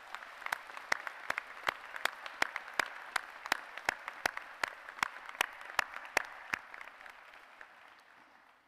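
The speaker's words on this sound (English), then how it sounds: "would join me in enthusiastic applause for your family and friends here and on the live" Applause at the Penn State Law commencement in University Park honours graduates' family and friends, heard as sharp, evenly spaced claps close by over a faint crowd wash, slowing and fading toward the end.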